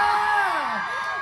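Fans at a Chinese New Year fan meeting in Paragon scream in a dense, high-pitched, sustained shriek that fills the whole moment, with a few voices sliding downward within the roar.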